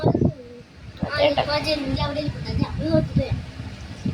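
A bird calls in repeated cooing notes close by, heard under a person talking.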